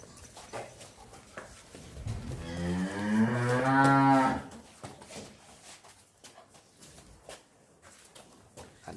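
A Jersey cow gives one long, loud mooing call with a rising and falling tone, close by on a dairy farm, surrounded by quieter farmyard background.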